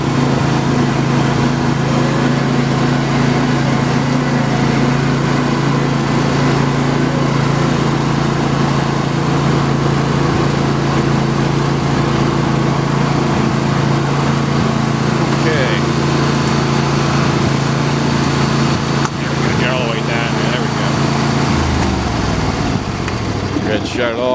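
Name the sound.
John Deere LA120 lawn tractor engine running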